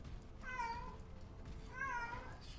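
A pet cat meows twice, close and quiet, each call rising then falling, wanting to play fetch with a ball that has a bell inside.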